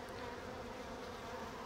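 Honeybees in an opened hive during a colony inspection, giving a steady, dense buzzing hum that fills the whole clip at a moderate level with no talk.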